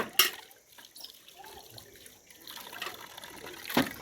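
Water from a free household supply spills and trickles in a quiet domestic setting, soft intermittent dribbles and drips with a few sharper splashes, faint and close.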